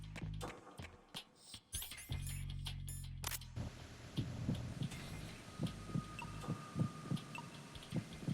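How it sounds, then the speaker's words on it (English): Throbbing heartbeat sounds from the Metal Gear Solid 2 video game, a steady run of soft thumps pulsing regularly over a dense game background after some clattering at the start, with no speech. "The heartbeats."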